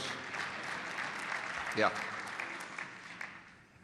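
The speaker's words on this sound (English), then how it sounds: "That was not much of a clap, but I'll take it." A small audience at a business summit in Oregon gives a thin, scattered applause that fades out as a single voice speaks briefly over it.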